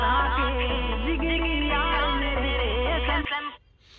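A catchy song with a sung melody and steady bass beat plays loudly for a few seconds, then cuts off and fades into near silence.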